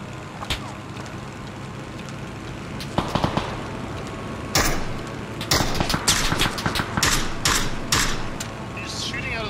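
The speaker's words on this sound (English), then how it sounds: "He's shooting at us with an SLR, like a 3-round burst for some reason" SLR rifle gunfire from PUBG, with sharp bursts of shots at the distance breaking through a steady background hum and player voice chat.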